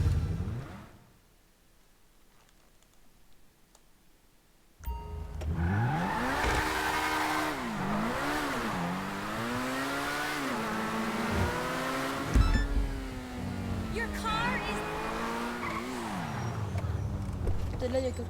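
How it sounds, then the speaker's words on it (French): Player-owned car driven in GTA 5 Online on PC, engine revving up and down with rising and falling pitch over a continuous game soundscape, loud and close after a quieter opening. "Je vais prendre une voiture à moi."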